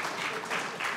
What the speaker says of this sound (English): but I love the applause